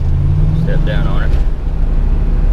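Big Block Chevy 454 V8 in a car revs up under acceleration, a loud, steady low roar rising in pitch with road rumble, while someone talks over it.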